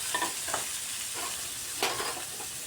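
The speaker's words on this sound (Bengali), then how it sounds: "পনিরটা ভালো করে ক্রাশ করে নিচ্ছি নারকেলের সাথে, ক্রাশ করে খুব ভালো করে মিশিয়ে নিচ্ছি" Paneer is mashed and stirred with grated coconut in a kadai, a soft steady sizzle with a few scraping strokes of a spoon against the metal.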